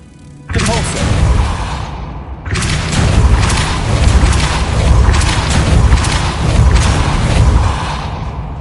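A Depulso spell cast in Hogwarts Legacy on PS5 lands as a loud booming blast, then after a brief lull a second heavy burst swells into a sustained rumbling, crashing wash of magical impact and debris that fades out.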